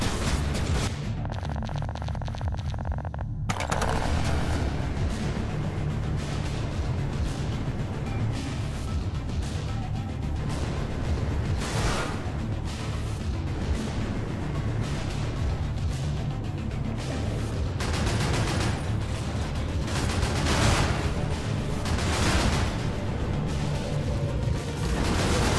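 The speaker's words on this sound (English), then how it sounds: "Heavy machine gun, obviously pretty good." Sustained heavy machine gun fire in the video game Cryptark, dense rapid bursts layered with booming impacts and explosions, loud and continuous across the whole stretch with a brief quieter, tonal pause near the start.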